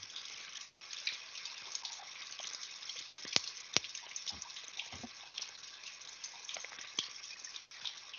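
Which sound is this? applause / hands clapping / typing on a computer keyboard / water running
water running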